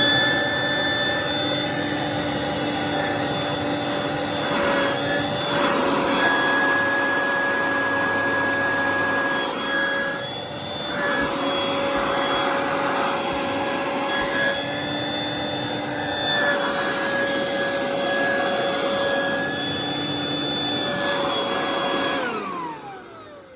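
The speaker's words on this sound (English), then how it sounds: "you get your leaf blower and of course you go" A 3000 watt leaf blower dries the wet carpet of a Mercedes A-Class, its loud motor whining at a steady pitch for about twenty seconds, with a few brief dips in airflow before it winds down at the end.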